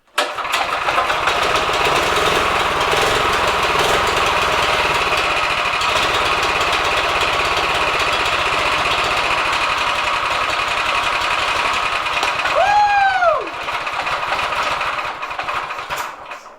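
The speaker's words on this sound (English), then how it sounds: "Alright, I'm gonna hit the throttle a little bit." A small engine on a drift trike roars steadily at high revs under throttle for a long stretch, then dips sharply and recovers with a rising whine near the end, loud and close.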